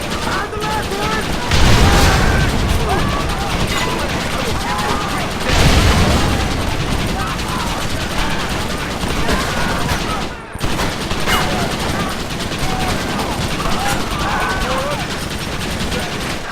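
Gatling gun fire in Red Dead Redemption, dense sustained rattling bursts with louder surges, set amid a chaotic gunfight with voices shouting over the din.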